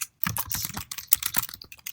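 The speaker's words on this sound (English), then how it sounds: "I'll explain exactly what this does just after I type it." Code is typed on a computer keyboard in quick, irregular bursts of close, crisp key clicks, with a short pause at the start and no talking.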